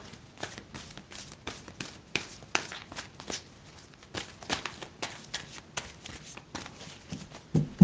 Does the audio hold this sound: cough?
no